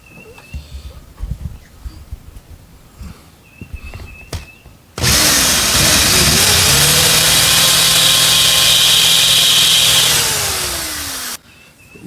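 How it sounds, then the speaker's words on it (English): A power drill with a 3/8 drill bit bores a hole for a hitch on a riding mower, whining loud and steady for about six seconds after quiet shuffling, then winding down abruptly. "I will drill the rest of the way with my 3/8 drill bit"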